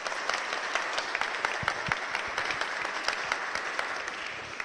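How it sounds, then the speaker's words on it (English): A round of applause from an audience at a diocesan teaching day, fairly quiet and somewhat sparse, with distinct individual claps spread evenly throughout. "can we give you a big round of applause to Shemil?"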